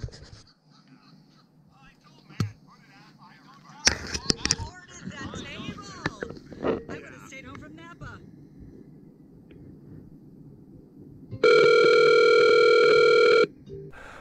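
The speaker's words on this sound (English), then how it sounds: "someone will call you, and it will ring at maximum volume" A motorcycle Bluetooth intercom headset rings at maximum volume for an incoming call, a loud sustained electronic tone lasting about two seconds near the end, preceded by quieter handling noises and rustling.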